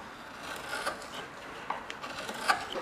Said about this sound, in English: So you cut across the grain. You can only do that with a really sharp chisel.